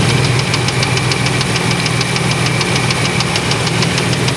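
The engine of a 1994 Chevrolet Astro van with fluctuating oil pressure runs loud and close, with a steady rapid ticking knock over a low rumbling idle.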